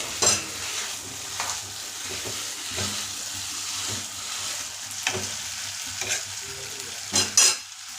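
Ragi pudding with cashews in ghee being stirred in a pan, repeated scraping strokes over a light steady sizzle.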